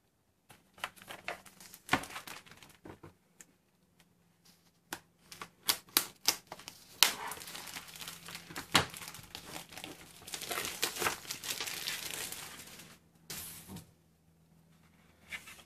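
Scissors snip and plastic protective film crinkles and tears as it is stabbed and peeled off an Inateck 13.3-inch hard shell laptop case, in close, irregular crackling bursts with brief pauses.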